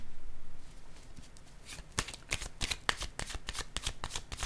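Tarot cards are drawn and laid down during a reading. Soft papery flicks and slaps come in a quick irregular run after a brief quiet start, close and faint, with no talk.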